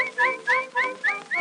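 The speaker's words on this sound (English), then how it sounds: "I'll bet he hears me whistling" A person whistles a short repeating phrase, five rising notes in an even rhythm, clear and close.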